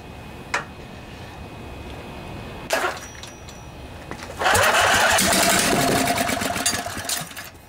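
A junkyard Briggs and Stratton OHV Intek twin engine from a Husqvarna riding mower, primed with starting fluid, gives a couple of sputtering attempts, then catches and runs with a loud, steady, rattling drone before easing slightly.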